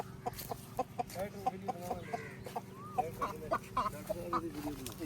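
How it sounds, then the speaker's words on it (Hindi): Turkeys and other fowl calling at a village farm in Kot Addu, Pakistan, with rapid repeated clucks and warbling gobble-like notes, close and continuous over a low rumble. "ये आई थिंक टर्की बर्ड्स"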